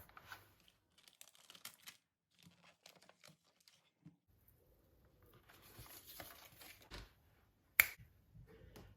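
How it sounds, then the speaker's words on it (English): Knife chopping thick-cut smoked bacon into small pieces on a board, a run of sharp, irregular taps and clicks with a denser burst of cutting near the end, close and fairly quiet. "cut these thick cut bits of bacon into small pieces"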